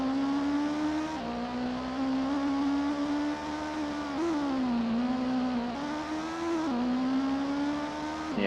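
Castrol Supra GT race car engine in the Gran Turismo video game, a loud continuous synthesized engine drone that steps up and down in pitch through gear changes, with no talk over it.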